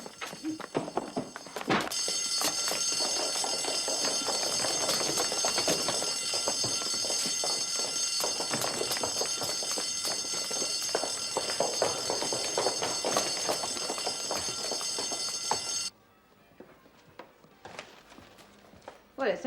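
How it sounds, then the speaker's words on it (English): A fire bell rings loudly and continuously, a steady metallic clangour, while people talk over it; it cuts off abruptly near the end, leaving quieter voices and movement. "The fire bell."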